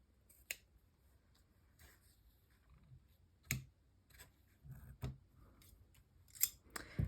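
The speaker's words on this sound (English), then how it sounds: "Now I'm going to grab my ribbon shears. And I'm going to cut these ends here." Ribbon shears snip ribbon ends in a quiet room, giving a handful of sharp, isolated cuts spaced irregularly over several seconds with soft handling noise between.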